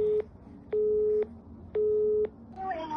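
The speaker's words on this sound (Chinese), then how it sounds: "您所拨打的用户正忙" A telephone busy signal sounds as three evenly spaced steady tones, each about half a second long, clear and isolated, followed by a brief faint electronic chirp.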